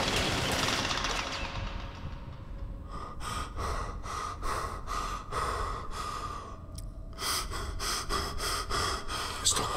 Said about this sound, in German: Gut, schnauf doch nicht so.